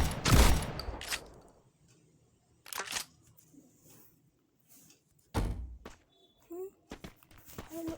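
Gunfire in the mobile video game Free Fire, several loud, sharp bursts of shots separated by quiet gaps, with a few fainter in-game sounds between them.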